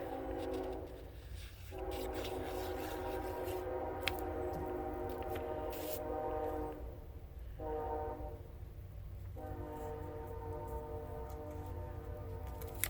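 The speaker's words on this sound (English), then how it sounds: "The train runs right by the middle school, junior high here, and I mean right by it" Train running past a middle school, a long steady rumble with sustained tonal horn blasts that break off briefly and resume, heard fairly faint from some distance with no talk.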